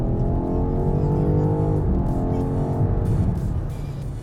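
A BMW XM's V8 engine pulls hard under heavy throttle, giving a loud, steady, rising drone with rich harmonics heard from inside the car that eases off near the end.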